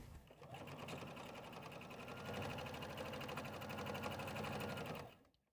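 A sewing machine stitches the lining opening of a tote bag closed, a steady rapid mechanical whir and needle chatter up close for about five seconds before stopping abruptly.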